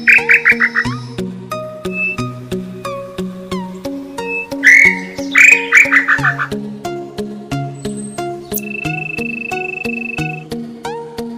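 A quail call blown on a horn caller, heard among rural backcountry sounds: repeated bright chirping whistles and a sustained tone ring out over a steady rhythmic background of frog-like croaks and insect buzzing.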